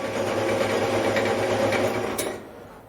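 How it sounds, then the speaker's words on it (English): A belt sander cleaning up wooden fascia boards for a garage, a steady close whirring hum that holds for about two seconds, then winds down and fades out. "Quick clean up on the belt sander."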